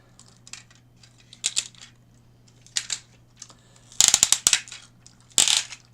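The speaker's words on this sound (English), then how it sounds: "Hips go right the way out. They're ratcheted, as you can hear." Ratcheting hip joints of a Tobot D transforming toy robot click in short bursts, some single snaps and one quick rapid series of ratchet clicks, close and crisp over a faint steady hum.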